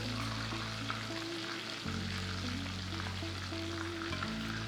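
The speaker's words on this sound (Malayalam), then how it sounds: "നമ്മൾ ചിക്കൻ ഫ്രൈ ചെയ്തത് ലോ ഫ്ലെയിമിലാണ്. അത് അയൺ ചട്ടിയാണ് ഞാൻ ഉപയോഗിക്കുന്നത്" Chicken pieces fry in an iron pan over a low flame, giving a steady, close sizzle with a low mechanical hum beneath it and no voices.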